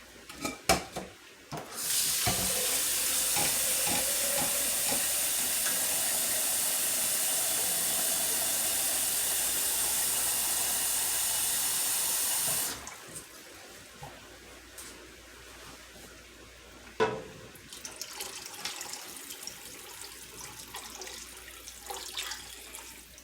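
Tap water runs into a blender for meatball soup, a steady rushing hiss of about ten seconds, then cuts off, leaving faint kitchen clatter and a brief knock.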